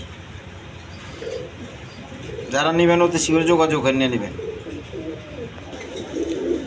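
Pigeons for sale coo in low, rolling bursts, loudest in one clear stretch near the middle, while someone talks over much of it.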